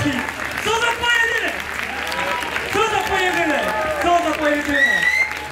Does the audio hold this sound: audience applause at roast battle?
yes